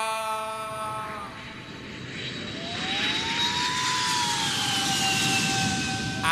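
A light propeller aircraft engine drones steadily under a song's beat, a sustained tonal hum that slowly rises and swells louder toward the end, with no voices in the mix.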